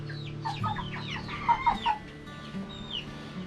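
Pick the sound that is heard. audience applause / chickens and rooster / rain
chickens and rooster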